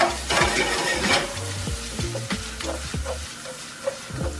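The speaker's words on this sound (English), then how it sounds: "Nice sizzle going." Onions sizzle steadily in a hot frying pan while a utensil stirs and scrapes against the pan in irregular strokes, close up.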